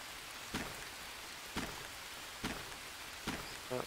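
Steady soft rain hisses in the jungle survival game Green Hell, quiet and continuous, broken by a few evenly spaced thuds and a brief tonal blip at the end.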